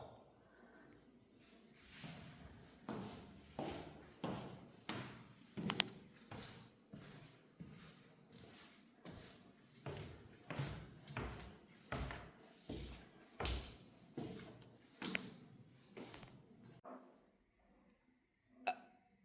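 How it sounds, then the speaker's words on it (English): Door in a stairwell creaking and knocking in a run of about fifteen separate thumps, roughly one per second, then a gap and a single late knock; moderately loud and fairly close in a quiet space. "That's the door moving again."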